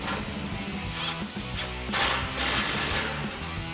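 A 13mm socket drives the bolt and nut of the tie-in bracket on an MBRP Armor Plus dual exhaust system for a Tundra. A steady, close mechanical rattle swells louder around the middle, with no voices.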